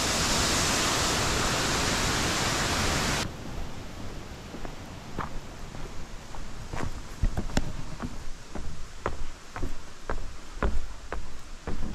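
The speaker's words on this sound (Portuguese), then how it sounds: "Então, aí está a cachoeira." A tall waterfall, about 20 to 30 metres high, in the Rio Canoas state park roars as a dense, steady rush for a few seconds. It then drops to a softer wash, with scattered footsteps or taps heard over it.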